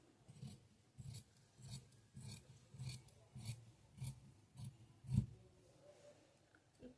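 Scissors snip through blouse fabric in a steady rhythm of about a dozen close, rasping cuts, each one brief and evenly spaced, with a slightly heavier cut near the end and no talking.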